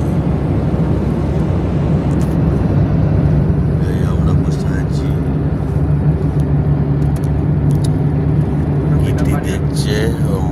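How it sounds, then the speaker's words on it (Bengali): A car driving on the road from Dankuni toward Bardhaman, with a steady low engine and road rumble throughout, wind noise, and faint voices in the background. "মিনার চালাচ্ছে গাড়ি।"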